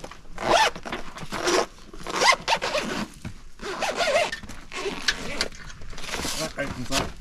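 A zipper is pulled open in several rapid rasping strokes on the cover of a Dacia Eclipse 180 degree awning mounted on a 4WD, loud and close, with brief pauses between pulls.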